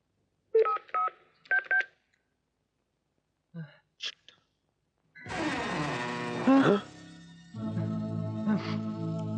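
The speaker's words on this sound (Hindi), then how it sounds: "तू रीटा को जल्दी से फोन कर" A short series of telephone dialing tones plays, a few quick bursts in two groups, followed by scattered clicks and then a swell of dramatic background music from a horror film.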